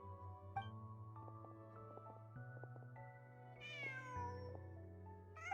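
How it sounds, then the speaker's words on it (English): A cat meows in a video game scene, a clear whining cry rising near the middle over a soft, sustained musical backdrop, with no talk over it. "Just a cat."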